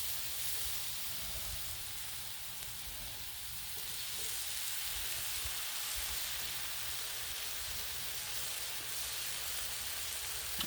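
Chicken with fajita sauce sizzles on a Blackstone griddle, a constant dense hiss and crackle, steady and fairly close throughout with no talk.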